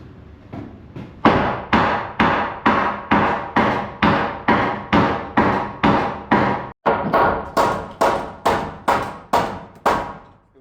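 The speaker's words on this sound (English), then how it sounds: "Let's see if I can hammer that." Hammer blows drive nails during a construction repair, a steady series of about twenty loud, evenly spaced strikes with a brief pause near the middle, heard alone and close.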